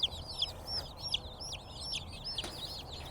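Baby chicks peep in a rapid, busy chorus of high chirps, many overlapping calls close by over a low background hum, pecking at the ground in a warm outdoor pen.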